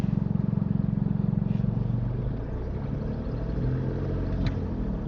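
A car engine idles and revs slightly as the car reverses at a crawl during a driving lesson, with a steady, close low rumble throughout and a few faint higher noises.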